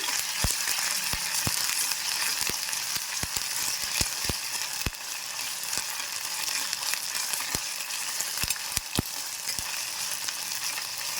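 Ginger garlic paste frying in a pan, giving a steady, close sizzle with frequent sharp pops and ticks scattered throughout, with no voices.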